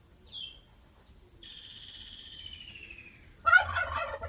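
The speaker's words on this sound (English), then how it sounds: "turkey gobble sounds." A turkey gobbles in a rapid warbling burst near the end, after a few thinner bird calls over a quiet background.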